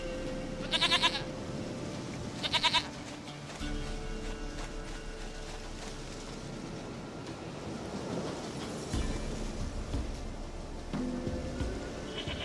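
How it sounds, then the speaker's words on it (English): Goat bleats in The Witcher 3 video game, two short sharp cries near the start, then further bleats over steady game ambience with a rumbling, rain-like wash. "Goat of mine, dearest, sweetest goat."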